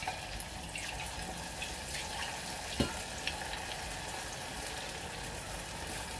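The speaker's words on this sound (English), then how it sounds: "Tapos i-double fry natin para crispy siya." Sweet and sour pork ribs fry in hot oil with a steady, dense sizzle and crackle throughout, broken by a couple of brief sharp pops or clinks near the middle.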